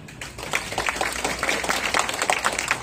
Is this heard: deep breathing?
no